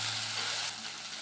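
Tomato, onion and green chillies fry in a little oil, giving a steady close sizzle that stays broadband and even for a second or so, then softens slightly with no talking.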